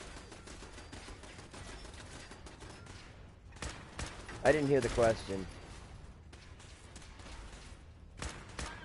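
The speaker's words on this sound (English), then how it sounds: "I'm in the middle of a lot of gunfire" Bursts of rapid gunfire in Fallout 4 crackle in clusters, some shots heavier than others, while a person speaks briefly over the noise.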